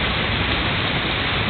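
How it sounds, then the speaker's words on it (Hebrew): Heavy tropical rain pours down in Costa Rica near a pool, a loud, dense and unbroken hiss of falling water with no pauses. "תראו מה זה מזג אוויר טרופי, גשם יורד"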